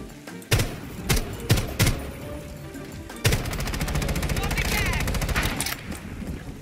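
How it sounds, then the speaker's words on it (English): Gunfire in Rainbow Six Siege: a few loud separate shots early on, then a long sustained rattle of rapid fire, with players chatting over it. "I swear to God, Ricardo, if you just shot out that window"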